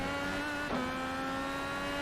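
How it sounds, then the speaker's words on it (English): Simulated IndyCar race car engine from a sim racing series at Road America, a steady high-pitched harmonic whine held at near-constant revs, with a brief shift-like dip partway through. "And let's listen to Kev's 52 car"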